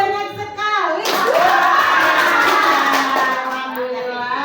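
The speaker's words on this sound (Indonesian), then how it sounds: "Tepuk satu, tepuk dua, tepuk tiga, tepuk banyak sekali." A group claps together in a counting game, rhythmic hand claps under and alongside lively voices that build into a burst of quick clapping, close and fairly loud in a room.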